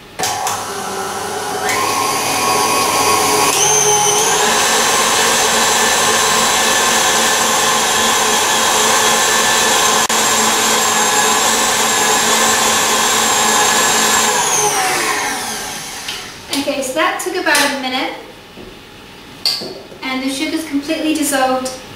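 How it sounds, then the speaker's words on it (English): A whole egg and three egg yolks are beaten together until creamy, giving a loud, steady motorized whirr that runs for about twelve seconds before stopping, after which someone talks. "I'm going to beat those together until they're really creamy"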